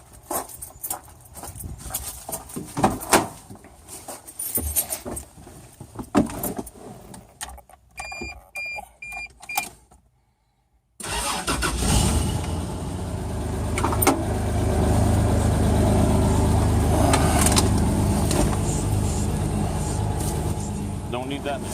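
Someone climbs into a truck, with shuffling, a door and keys, then the engine starts and runs with a steady low rumble that fills the second half.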